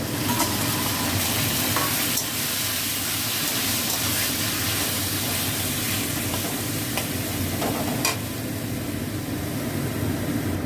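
Steamed red amaranth leaves frying with onion in oil in a pan, giving a dense, steady sizzle with occasional stirring scrapes, fairly loud and close, with no talking.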